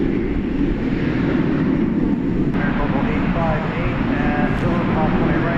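Qantas Boeing 787-9 Dreamliner operating Flight 8 at Dallas Fort Worth airport, a loud continuous jet engine roar that holds steady throughout while a person talks over it.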